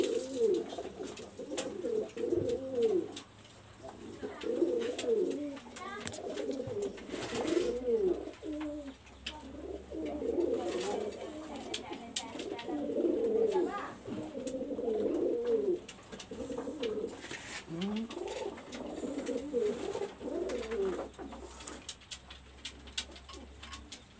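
Three female Pakistani high flyer pigeons coo close by in repeated soft, throaty bursts, overlapping and continuing throughout with brief pauses and faint rustling between calls.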